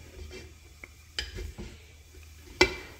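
A lid is set onto a pot of boiling sweet potatoes in a kitchen, giving a few light clinks and one sharp metallic clack near the end, close and brief, over a soft low simmer with no talking.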